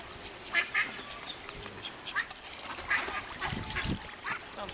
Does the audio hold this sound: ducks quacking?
yes